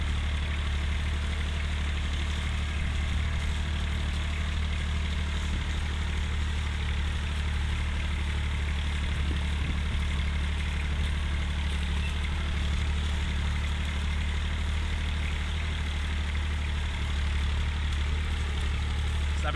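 An IMT tractor engine, an IMT 539 DLI or IMT 756 VK, runs steadily while winter ploughing a small field, a continuous loud low drone with no breaks.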